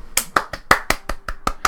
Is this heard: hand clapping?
yes